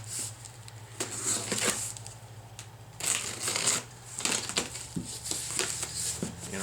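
Plastic and paper wrapping of shipped packages holding a Yaesu FTM-400DR radio and cable crinkles and rustles close up in several bursts, separated by quieter moments, with a low hum underneath.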